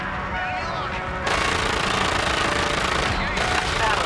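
Rapid, sustained 20mm cannon fire in the video game Call of Duty: Infinite Warfare, a dense, loud, continuous burst that starts abruptly and runs to the end, with a brief dip near the close.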